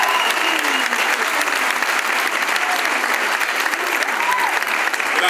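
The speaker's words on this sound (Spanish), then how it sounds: "¡Fuerte ese aplauso!" Steady, dense audience applause at an anniversary celebration event in San José, Uruguay, continuing at an even loud level throughout, with faint voices underneath.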